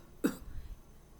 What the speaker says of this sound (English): But suddenly she heard a cough